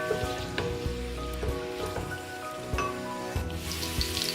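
Chopped onions sizzling in about half a cup of hot oil for mutton pulao, a steady close crackling fry with scattered pops and light clinks, no voices.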